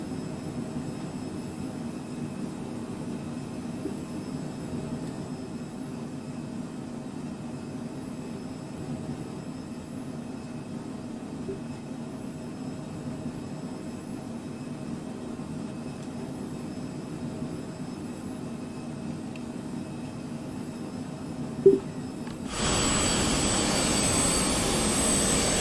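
Steady jet engine drone of a Cessna Citation Mustang C510 in Microsoft Flight Simulator, low and even for most of the stretch, with a short click near the end followed by a louder, brighter roar.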